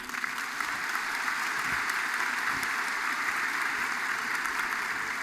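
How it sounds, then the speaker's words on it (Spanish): A crowd at a Tlaxcala government event for a social infrastructure program claps steadily and evenly, a continuous wash of applause heard from some distance with no break. "Un aplauso, por favor."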